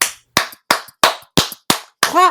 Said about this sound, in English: just reach in and clap right there in your field